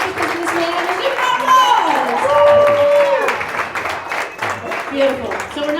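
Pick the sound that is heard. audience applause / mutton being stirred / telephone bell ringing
audience applause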